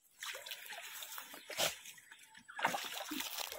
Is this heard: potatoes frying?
no